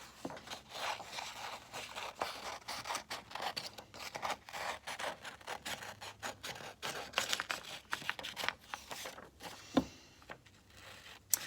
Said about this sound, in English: I'm gonna go ahead, grab my scissors.